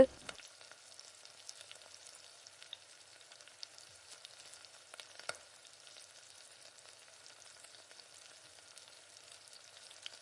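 Mustard seeds and fenugreek fry in hot sesame oil on an induction cooktop, making a faint, continuous crackle with scattered tiny pops and no talk.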